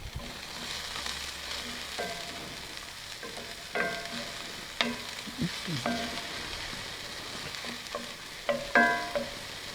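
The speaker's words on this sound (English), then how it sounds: "I'm going to get my onions started." Onions fry in a cedar plank tray on a grill for lasagna, with a continuous soft sizzle and occasional scraping and clinking of a utensil close by.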